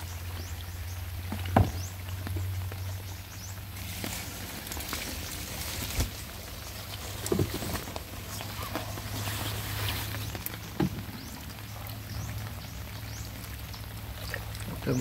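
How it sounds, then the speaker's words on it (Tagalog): Rain falls steadily outdoors at a lagoon during tilapia fishing, a constant hiss and patter with occasional louder drops and splashes, under a low engine-like hum and faint movement nearby. "Basta ulan lang ng ulan."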